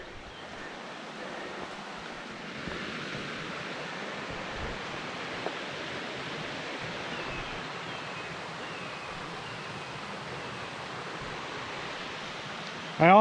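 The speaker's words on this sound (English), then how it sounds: "Got some more cascading here to our left" Water cascades down beside a shady forest trail among laurels, a steady broadband rushing wash heard from a moderate distance with faint footsteps and no talk.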